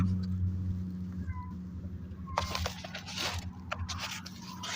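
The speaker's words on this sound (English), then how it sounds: "every cat reacts to the male cat that comes crying" A male cat cries and meows in drawn-out, wavering calls, loud and close over a steady low hum, with scraping and rustling noises.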